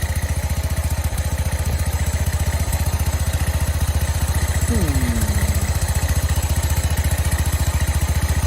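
A 1985 John Deere 210 lawn tractor engine runs at wide-open throttle, apparently starved of fuel, producing a steady, close, loud, rapid chugging drone that holds throughout with no pauses.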